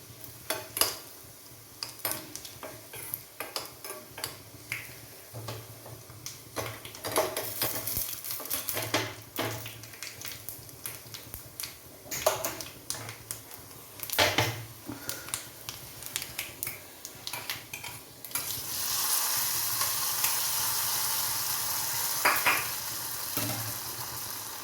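Onion and curry leaves fry in a pan, a steady sizzle broken by frequent sharp crackles and spatters and the scrape of stirring, growing into a louder, denser hiss toward the end with no talking.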